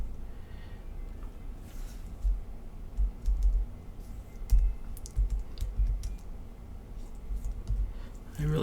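Typing on a computer keyboard, with light irregular clicking keystrokes that come in short bursts over a low background hum and stay near and fairly soft.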